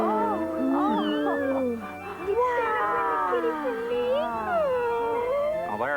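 Cartoon kitten meows and mewling cries rise and fall continuously through the scene, mixed with music and other animal-like vocal sounds.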